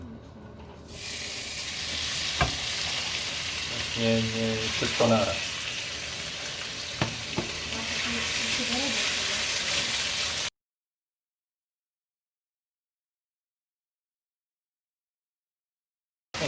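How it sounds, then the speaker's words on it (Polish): Loud, steady sizzling of beef stir-frying over high heat, with a few sharp clatters and a brief spoken phrase, then it cuts to silence. "kiedy smażymy wołowinę, to musi być zawsze największy ogień albo najwyższa temperatura."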